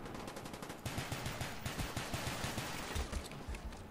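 Rapid pistol shots in the video game Black Ops 1, a quick run of sharp, evenly spaced cracks fired in fast succession at moderate volume, with no talk over them.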